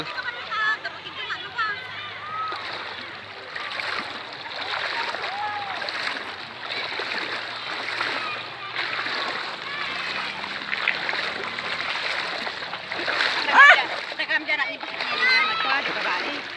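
Several people wade across a river, with continuous splashing and churning water close by, and children and adults chatting throughout.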